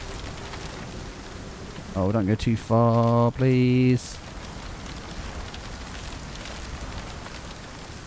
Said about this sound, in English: Why isn't the rain putting it out?